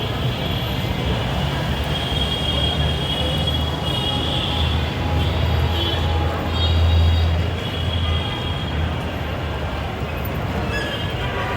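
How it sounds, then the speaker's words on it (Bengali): Steady, loud rumble and broadband roar at the Diabari metro rail station in Uttara, Dhaka, with a deep low hum throughout that swells slightly midway, as if a metro train is moving nearby. "এটা Dhaka Uttara ডিআইবাড়ি metro rail station"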